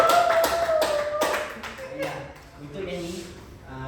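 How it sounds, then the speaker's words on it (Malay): A classroom of pupils in a Malay language lesson claps for a classmate, with a quick burst of sharp, uneven hand claps that fade within about two seconds, followed by voices talking. "Tepukan semua untuk Amsyari."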